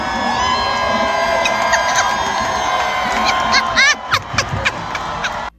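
A crowd cheers and whoops in a lively burst, with raised voices and scattered shouts; the sound ends in a few sharp yelps before cutting off.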